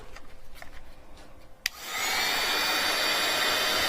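A hair dryer starts with a sharp click and then blows in a steady, loud, close whoosh, drying a small puddle of wet medium on a layered craft project.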